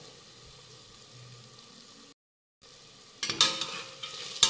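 Spices sizzle quietly in a pan for vangi bhat brinjal rice, then a spoon stirs and scrapes them in louder, gritty bursts toward the end.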